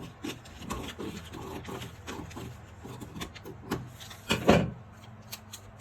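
Scissors snip through fabric while a reversible wrap crop top is being cut out, a string of soft rasping cuts and rustles at close range, ending in a slightly louder snip, with no talking.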